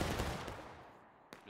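Massed musket volley in the Civil War game War of Rights, 180 players on the Pry Grist Mill map: a loud rolling burst of shots that decays over a second, followed by one sharper report near the end.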